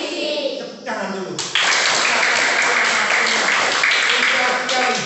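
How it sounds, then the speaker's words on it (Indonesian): A class of schoolchildren claps together, starting after a brief voice and swelling into steady, fairly loud group applause that continues to the end. "Tepuk tangan dulu."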